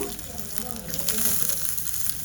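Cumin, sesame seeds and onions sizzle in a pan, a steady close frying hiss with a brief crackling burst partway through, fairly quiet and with no talking.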